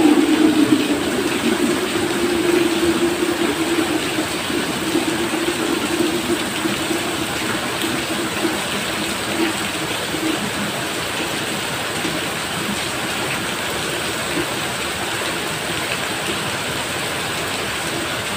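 Heavy typhoon rain from Typhoon Carina pours down in a loud, steady roar that holds evenly throughout, with no talk over it.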